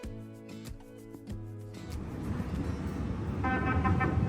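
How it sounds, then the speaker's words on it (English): A car horn sounds in several short honks, loud and near, on a Paris street, followed by the rumble of passing traffic and another brief toot. "Oh, they honked at you, Sonny."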